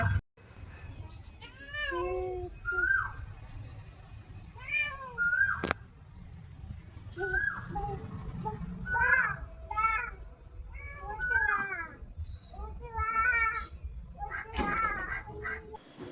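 A cat meows repeatedly near a home kitchen where sardines are being prepared, several distinct calls spaced a second or two apart, each rising and falling, with faint voices and household noise underneath.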